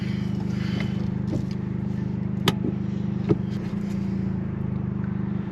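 A Toyota GR Yaris drives along with a steady, low engine drone and road hum from inside the cabin, broken by a couple of sharp clicks or knocks.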